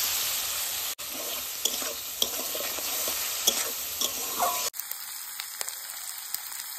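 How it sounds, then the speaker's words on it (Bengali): Chicken pieces frying in oil with salt and turmeric in a pan, a constant hiss of sizzling broken by sharp spatula clacks and stirring scrapes, close by with no talk. "মাংস লাল লাল করে ভেজে নিয়েছি"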